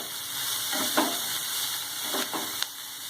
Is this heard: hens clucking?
no